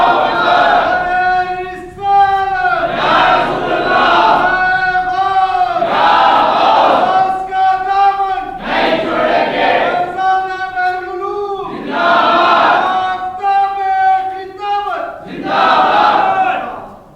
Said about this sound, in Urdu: بولتے رہو یا رسول اللہ کے نعرے لگاتے رہو